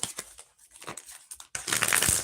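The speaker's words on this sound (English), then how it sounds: "I'm going to shuffle again because that was all over the place." Tarot cards are shuffled with crisp riffling and crinkly rustles, a few soft bursts followed by a louder, faster riffle up close.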